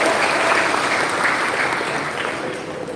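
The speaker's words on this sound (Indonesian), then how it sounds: "Tepuk tangan buat teman-teman." Applause for new university students from a large crowd, a dense continuous roar of clapping that fades slightly toward the end.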